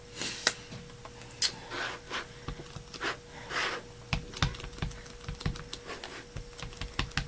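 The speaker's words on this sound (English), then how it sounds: "I'm just taking my black ink pad and going all over it" A black ink pad is dabbed repeatedly over a large rubber stamp image, making soft, close tapping thuds in an uneven rhythm with brief pauses.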